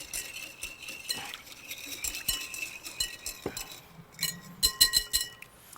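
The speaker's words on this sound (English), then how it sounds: "Then whisk in extra virgin olive oil." Whisking extra virgin Spanish olive oil into vinegar for a dressing, a close run of quick metallic clinks and taps against a bowl that grows busier toward the end, with no talking.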